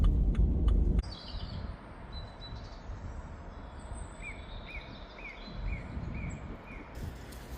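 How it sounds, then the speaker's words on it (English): Small birds sing in trees around a parked car, a series of faint, repeated high chirps and short whistles over low outdoor rumble, following a brief burst of louder noise at the start. "Isn't that a lovely sound of the dicky birds in the trees?"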